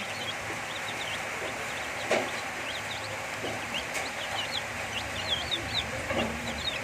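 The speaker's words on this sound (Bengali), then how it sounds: "এই মুরগির বাচ্চা ছানাগুলো আমরা পালবো না" Motherless baby chicks, kept tied up, peep and cluck in a steady scatter of thin, repeated high chirps over a noisy rural background, with a few louder calls near the end.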